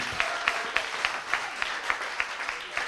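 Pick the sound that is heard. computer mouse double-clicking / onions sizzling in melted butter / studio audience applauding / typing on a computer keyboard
studio audience applauding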